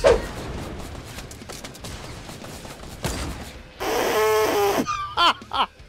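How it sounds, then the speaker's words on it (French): Gunfire from a first-person shooter video game such as Call of Duty or Fortnite, with scattered sharp shots and a dense burst of rapid fire followed by a few loud closing reports, played back at moderate loudness. "Voilà un petit exemple d'headshot."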